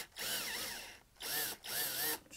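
Power drill whirring in three bursts, its pitch rising and dipping as it bites into the metal of a Ford Focus car door, with short pauses between runs.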